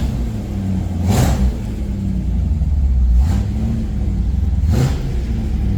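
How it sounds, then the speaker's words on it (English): Cold-started Holden HZ engine, a loud rough idle punctuated by three sharp throttle blips that each rise and quickly fall back, all without talk. "you got to love the cold start in this car."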